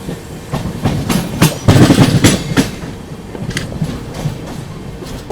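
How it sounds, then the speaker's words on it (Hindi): 12621 Tamil Nadu Superfast Express running after leaving Gudur Junction, heard from inside a 2AC coach: steady rolling rumble with rhythmic clickety-clack bursts over rail joints, loudest in the middle, no talk. "अपनी तमिलनाडु सुपरफास्ट एक्सप्रेस निकल चुके हैं गुडूर जंक्शन से"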